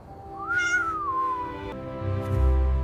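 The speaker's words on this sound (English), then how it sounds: "He is the president's rare savanna cat." A rare savanna cat gives one long, drawn-out meow that rises and then slowly falls, near and clear. A low rumble follows at the end.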